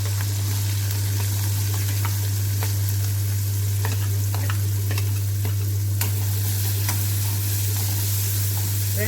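Ginger-garlic paste and onion fry steadily in a pan, giving a continuous loud sizzle with scattered crackles and light stirring scrapes, over a constant low electrical hum.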